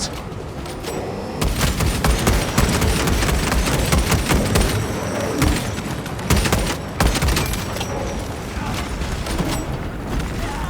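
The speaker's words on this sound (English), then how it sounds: "Deploying frag grenade!" Grenade blasts and dense gunfire fill a Warhammer 40k video game battle, with loud, sustained crackling volleys and repeated heavy impacts. Brief mechanical clanks run through the barrage.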